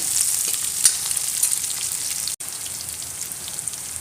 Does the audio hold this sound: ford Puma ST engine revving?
no